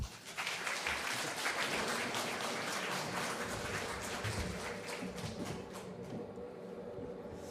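A church congregation applauds steadily in a large room, the clapping sustained and even before slowly thinning toward the end.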